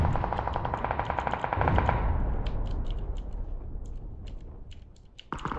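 Rapid automatic gunfire rattles in fast bursts during a team shooter video game, loud and dense at first, then thinning into scattered single shots and short volleys with a sharp burst at the end.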